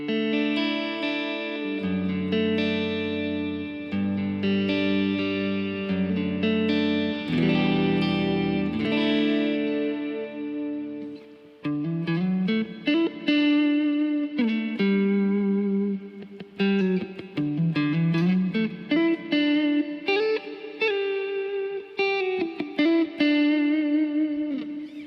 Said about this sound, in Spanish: Ahora si activo el preset que tengo acá como para estilo worship, en lo que prácticamente solo lo que hago es agregar una cantidad de reverb